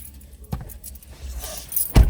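Car keys jangle close by in two brief metallic bursts, the second louder, with quiet background noise in between.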